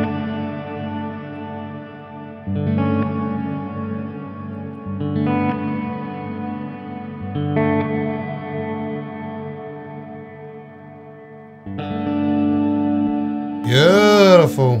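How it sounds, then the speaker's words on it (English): An electric guitar plays short, sharp plucked notes through a BOSS RV-6 reverb pedal, each attack followed by a ringing reverb tail, ending in a warbling, pitch-swept effect. "I'm going to be playing lots of short, sharp notes today so you can actually hear the reverb"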